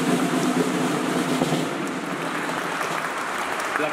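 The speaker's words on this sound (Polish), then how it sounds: "poproszę o małe brawa dla tych naszych aktorów" A crowd at a school Independence Day ceremony claps for the student actors, a steady wash of applause heard from a distance with some wind-like noise over the microphone.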